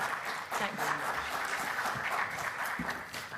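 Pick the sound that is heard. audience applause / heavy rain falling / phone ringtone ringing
audience applause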